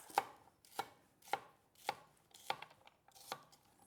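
A knife rough-chops vegetables on a cutting board in a rustic kitchen, about six crisp, evenly spaced chops landing every half second, close and fairly quiet with no talking.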